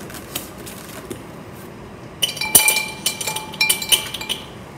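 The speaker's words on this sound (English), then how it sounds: "I'm going to add dry ice" Dry ice pieces are dropped into a glass beaker, giving a burst of sharp clinks and rattles against the glass after a quiet start, with no talk.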